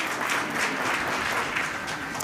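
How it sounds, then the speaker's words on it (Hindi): An audience at a Hindi kavi sammelan poetry gathering claps for the education department, a dense, even burst of applause with no speech over it. "एक बार एजुकेशन डिपार्टमेंट के लिए तालियां"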